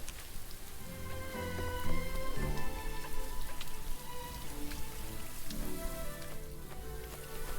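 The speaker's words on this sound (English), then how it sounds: "Town's getting rained out." Steady rain falling in the horror game Little Goody Two Shoes, a dense, even hiss of drops on surfaces with faint tonal game music underneath, no talk.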